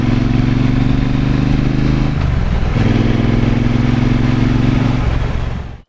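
A Triumph Bonneville Speedmaster motorcycle engine runs loud and close with a deep, steady throb, dipping briefly around the middle before rising again, then cutting off abruptly at the end.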